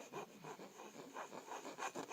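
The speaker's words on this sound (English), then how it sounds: "take your flat file or your sandpaper and sand off all these sharp corners" Rhythmic scraping of sandpaper against the sharp corners of a small wooden knife, repeated strokes back and forth at close range, steady and moderately loud with no talking.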